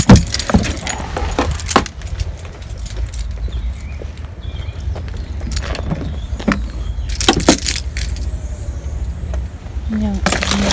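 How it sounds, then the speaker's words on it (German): A car trunk is opened at a petrol station: keys jangle, then come close clicks and clunks of the lid, with a few sharp knocks near the end against steady background rumble. "ich mache mal eben den Kofferraum."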